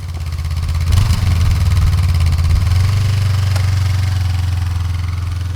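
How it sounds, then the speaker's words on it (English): A Honda CL500 motorcycle engine runs steadily, a loud close low rumbling idle with a slight rise in revs near the start, continuous with no talking. "I'm going to go on the bike and not walk."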